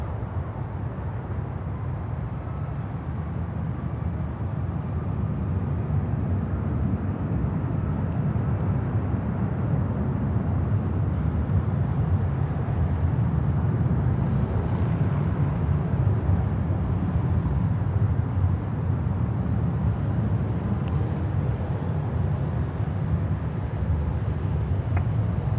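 Steady, continuous low rumble of a large Avianca cargo jet taxiing at Miami airport, heard from a distance with a broad engine drone that holds nearly constant throughout, no voices present.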